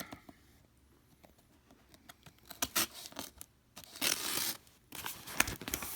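Packaging for a PM Tuning PM80 Scomadi scooter exhaust being cut open with a knife on the floor, with irregular bursts of tearing, scraping and crinkling plastic up close.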